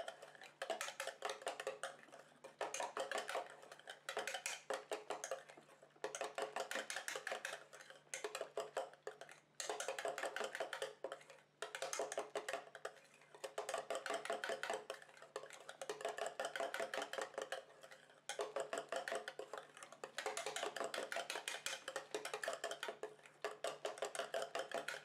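DIY foot cream ingredients being mixed in a container, a steady run of quick scraping and tapping strokes at close range that keeps going with short pauses and no voices.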